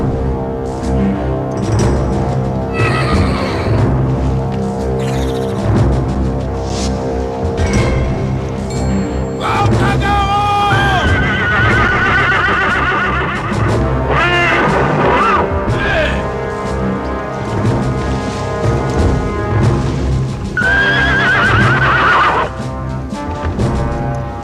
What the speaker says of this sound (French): Viens ici, petit cheval, encore quelques pas, et tu pourras manger autant que tu veux.